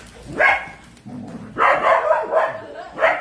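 Several dogs at a home bark in short, loud bursts that come close together, with a quieter stretch between them, while someone talks over the noise.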